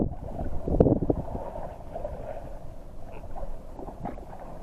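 A small boat cruising steadily across open water, a continuous low engine and wind rumble with a brief louder burst near the start, no speech.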